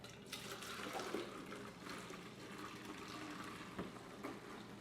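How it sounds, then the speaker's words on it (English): Chai tea latte trickles and splashes faintly into a pitcher, a soft continuous pour with a few small clinks, quiet and close. "I'm going to pour it in the pitcher."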